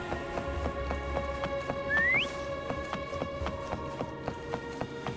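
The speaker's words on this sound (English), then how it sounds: "Try whistling." A short rising whistle to call the horse Foam in Wuthering Waves, heard once over a steady rhythmic clip-clop of hooves and a soft musical backdrop.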